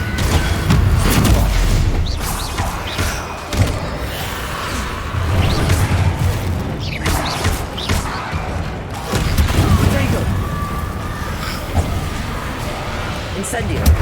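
Repeated fiery spell blasts in Hogwarts Legacy, the Incendio fire spell cast again and again with booming bursts and whooshes over continuous game action and effects, loud and dense throughout.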